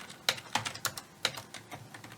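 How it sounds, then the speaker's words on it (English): Computer keyboard being typed on, a series of light irregular key clicks close by and fairly quiet, with no talking. "whenever I'm typing these commands, I just kind of shortcut them"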